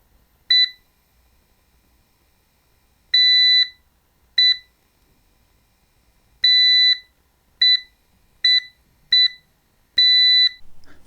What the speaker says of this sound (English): The beeping happens at a certain frequency.